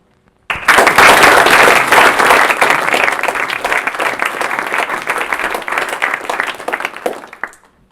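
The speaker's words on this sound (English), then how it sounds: "we should give him another round of applause for all the work he's put into this meeting" A meeting audience gives a closing round of applause: a full burst of many hands clapping starts abruptly, holds loud and dense for several seconds, then thins and fades out at the end.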